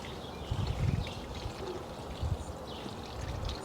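Water pours onto potting soil in a Proven Winners Aquapots Lite planter with a water reservoir, a soft trickling gush that swells in two low bursts and then settles into a quieter steady stream.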